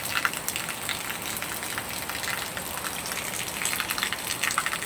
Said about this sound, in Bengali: এতদিনে বৃষ্টি হচ্ছে